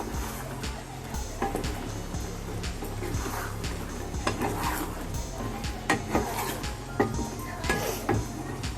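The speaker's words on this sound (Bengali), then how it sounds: "এবার সব ভালো করে মিশিয়ে দেবো এর মধ্যে" Egg chilli ingredients stirred together in a pan, with a spoon clinking and scraping in a steady, uneven patter of close sharp taps over a constant low kitchen hum.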